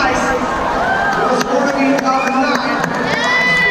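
Stadium crowd at a Monster Jam freestyle event at MetLife Stadium, a steady roar of cheers and clapping with scattered shouts and whistles, heard beneath a commentator's talk.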